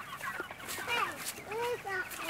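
Chickens in a backyard garden give a run of close, moderately loud clucks and short squawks over light outdoor background noise, with no talking.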